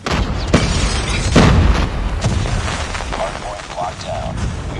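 Grenade explosion in Call of Duty Mobile: a heavy booming blast near the start followed by a few thumping hits and rumbling battlefield noise.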